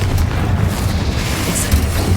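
A Confringo fire blast spell in Hogwarts Legacy lands as a loud, rumbling explosive boom that rolls on continuously with deep low-end weight and a faint crackle on top, alone without speech.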